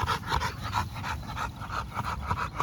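A large, heavy, snub-nosed dog pants steadily in the shade on a hot day, catching its breath with quick rhythmic breaths, fairly close and moderately loud.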